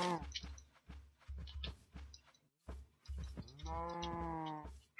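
Blocky cows in Minecraft let out a series of moos, the second one a long, drawn-out low call with rich harmonics, mixed with short thumping hits and game sounds, all at close range.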